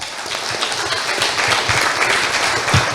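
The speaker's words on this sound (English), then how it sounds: "Give him a clap." Audience clapping at a family business conclave, a steady spread of hand claps at moderate loudness with a few louder individual claps toward the end.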